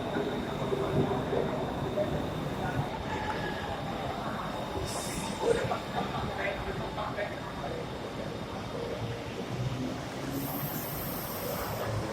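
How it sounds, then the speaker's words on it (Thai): An elevated rail train pulls into platform 4 at a Bangkok station near MBK Center, a steady broadband rumble and wheel roar filling the platform throughout, with a brief squeal near the end and voices murmuring beneath. "อันนี้รถไฟเข้ามาแล้วครับ"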